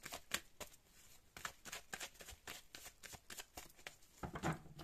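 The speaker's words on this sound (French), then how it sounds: "Je le remélange et je le coupe." A deck of tarot cards is shuffled and cut, giving a rapid series of crisp riffling flutters and soft slaps, close but quiet, with no voices.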